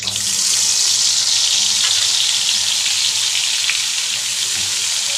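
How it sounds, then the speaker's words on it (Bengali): Dried fish fries in hot oil with a steady, loud, hissing sizzle that continues unbroken, with faint scraping underneath and nobody speaking. "মাছগুলো লাল লাল করে ভেজে নেব খেতে দারুণ লাগে"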